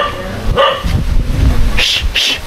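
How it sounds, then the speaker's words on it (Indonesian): A dog barks several times in short bursts close by, a few sharp yelps standing out over a continuous low rumble and background chatter. "Guguk, berisik banget"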